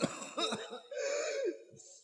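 A close, harsh cough in a few rapid bursts, followed by a strained throat-clearing rasp, with no talking.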